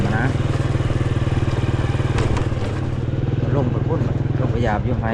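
A motorcycle engine drones steadily and loudly as the bike is ridden along a rural route, a continuous close rumble with slight shifts in pitch, while people talk over it.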